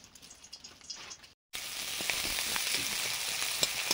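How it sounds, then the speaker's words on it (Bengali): Water spinach fries with panch phoron, dried chilli and chopped onion, a loud steady sizzle that jumps up after a brief silent gap and then holds, with scattered pops and crackles. "কলমি শাকে ভাজা করছি এখন, পাঁচফোড়ন, শুকনো লঙ্কা আর কুচনো পেঁয়াজ দেওয়ার পরে মাছের ডিম কেটে দিয়েছিল"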